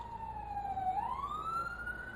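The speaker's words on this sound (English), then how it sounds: "There goes an ambulance." An ambulance siren wails at a distance outside a greenhouse, one long tone that dips and then rises steadily. It sounds faint and far off over a low background rumble.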